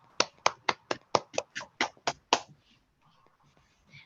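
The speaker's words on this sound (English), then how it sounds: "Please give yourselves a round of applause." A few people at a community annual meeting and trivia event clap in a short, sparse run of about ten distinct, close hand claps, then fall quiet.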